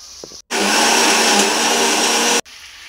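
A blender whirs loudly at steady speed for about two seconds, grinding boiled spinach into a paste, starting and stopping abruptly, with a faint clatter just before it switches on.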